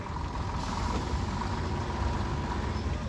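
A Leyland 350 engine in an LAD-cab truck rolls past in a commercial vehicle parade at a steam rally, with a steady low diesel rumble and a faint whistle, moderately distant and continuous.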